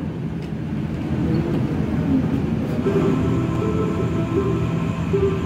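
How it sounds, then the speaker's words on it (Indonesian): Near Pemalang station, the Argo Bromo Anggrek train approaches with a steady low rumble and a rail hum that grow slightly louder over several seconds, heard from the trackside without voices. "Kemungkinan kereta api Argo Bromo Anggrek akan segera melintas."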